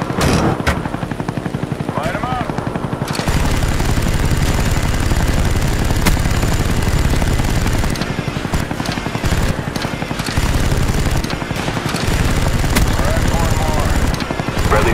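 A Huey helicopter in a Call of Duty match on the Nuketown map thuds loudly and continuously, with gunfire and announcer voices layered over the dense rotor roar.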